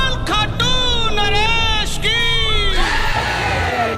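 A dense crowd of pilgrims packs the entrance gate of a Hindu temple, the Chulkana Dham. Loud, close shouting and chanting voices rise and fall in overlapping cries throughout.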